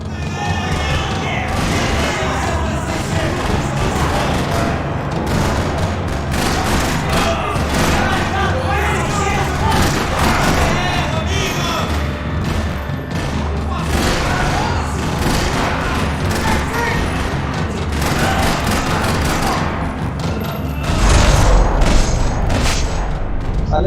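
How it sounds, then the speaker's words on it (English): Rattling gunfire echoes through a parking lot in the Max Payne 3 video game, sustained bursts of shots and booms layered with crashes over a dense action soundtrack, with voices talking throughout. "Another parking lot rattling with gunfire."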